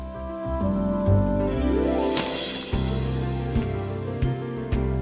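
Rain drumming steadily on a surface, with a louder hissing swell midway and scattered sharper drops, backed by a sustained musical tone.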